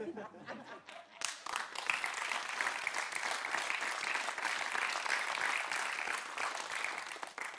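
A television studio audience breaks into loud, sustained applause with some chuckles and laughter mixed in, the clapping swelling after a brief quiet start and continuing evenly throughout.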